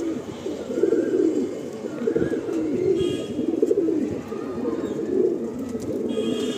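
Crested fancy pigeons in a home loft keep up a close, unbroken chorus of low rolling coos, swelling and overlapping, with faint higher peeps now and then.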